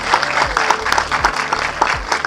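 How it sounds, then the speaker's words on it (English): A studio audience claps for a TV quiz show, a dense, steady wash of applause with a deep repeating thump underneath, loud and continuous. "Give me a round of applause"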